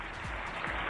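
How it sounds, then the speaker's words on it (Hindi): A hall at an award ceremony fills with a steady, dense wash of applause, loud and continuous for the whole second. "तालियों की गड़गड़ाहट से गूंज उठा पूरा हॉल।"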